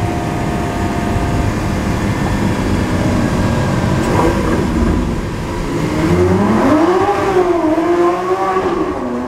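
A Lamborghini Aventador SVJ Roadster drives through a tunnel, its loud engine roar echoing off the walls and rising in pitch as it accelerates near the end.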